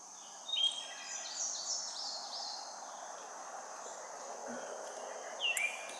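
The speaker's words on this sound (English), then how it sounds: "I hope you guys are enjoying the natural sounds of the birds chirping," Birds chirp and crickets trill outdoors, with faint high chirps and whistles over a soft, steady insect hum and a low background hush.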